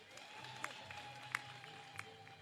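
Brief round of audience applause at a formal ceremony, a soft continuous patter of clapping with a few distinct sharper claps, moderately distant.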